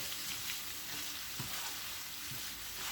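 Thin-sliced chicken and onions frying in a pan, a dense, steady sizzle that fills the whole stretch, close and even, with a couple of faint knocks underneath and no talking.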